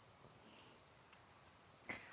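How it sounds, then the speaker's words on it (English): Many cicadas, probably thousands, drone in a steady high-pitched wash outdoors among bellbirds, continuous and fairly even, with a brief faint chirp near the end and no talking. "We might be able to hear them, and many hundreds, probably thousands of cicadas."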